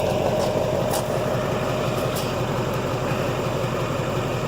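A pickup truck engine idling nearby with a steady, even low rumble and a constant throb under a faint background hiss, with a few soft clicks and no talking.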